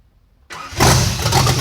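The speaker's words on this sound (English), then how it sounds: "Once you're sure everything looks good, turn the key and let it roar." A Chevrolet S10 street truck with an upgraded, larger fuel injection system starts up: brief silence, then the starter cranks and the engine catches within a fraction of a second, settling into a loud, rough, close idle.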